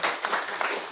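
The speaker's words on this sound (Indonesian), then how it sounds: "Kasih tepuk tangan yang paling meriah." A congregation applauds during a church service, a short burst of dense, energetic clapping heard at moderate distance.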